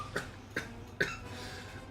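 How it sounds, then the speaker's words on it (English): Three short, dry coughs about half a second apart come from one person close to the mic, fairly quiet, with a faint trailing breath after the last. "my cough's getting the better of me."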